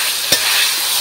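Fish curry masala frying in a pan, a steady broadband sizzle throughout with a brief louder stir or clatter early on, close and fairly loud.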